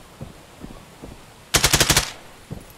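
Gunfire in the VR shooter Contractors Showdown on Meta Quest 3: a rapid automatic burst of about seven loud shots, framed by scattered softer thumps before and after.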